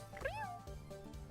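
A person imitates a cat, voicing a quick trill that rises and slides into a drawn-out meow, faint and close, with brief talking after it.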